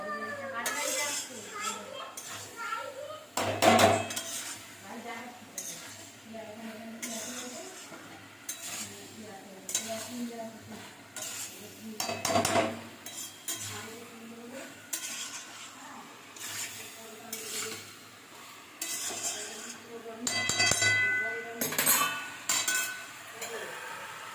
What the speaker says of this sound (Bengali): ভালো করে মেশাবো মশলাটার সাথে এগুলো।